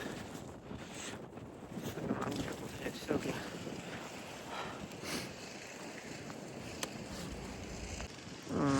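Strong cold wind blowing during snowfall, a continuous roaring gust buffeting the microphone, loud and broadband with surges, no clear speech.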